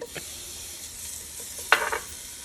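Garlic and ginger fry in a hot pan with a soft, continuous sizzle, broken by a few stirring scrapes and one brief louder crackle as the pieces are moved around.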